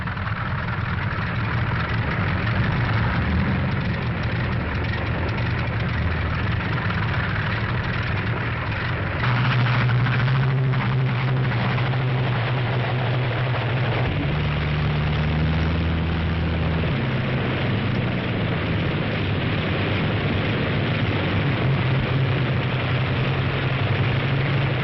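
Multiple B-17 bomber engines idle and run up before takeoff, a steady loud propeller drone with low pitch shifts as engines change speed, continuous throughout with no talking.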